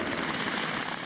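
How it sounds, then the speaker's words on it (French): A helicopter landing at a disaster relief site to evacuate the wounded, its rotor and engine roar steady, loud and close throughout, with no talk over it. "Toutes les 2 minutes, un hélicoptère se pose pour évacuer les blessés."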